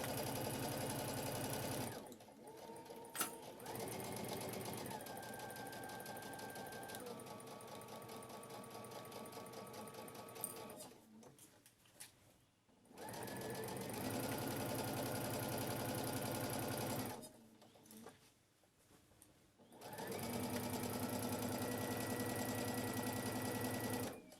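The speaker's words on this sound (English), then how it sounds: "So just backwards, and then you can do your 1 centimetre seam on here." A sewing machine stitching a 1 cm seam on scrubs runs in three long bursts of steady rapid whirring, separated by short pauses with quiet handling sounds.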